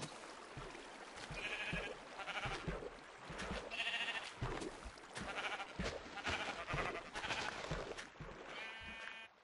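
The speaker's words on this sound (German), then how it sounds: "Oh, sogar zwei Schaf." Sheep in the video game Minecraft bleat repeatedly, several short wavering calls spaced irregularly over a faint background of clicks and game noise, with no talking.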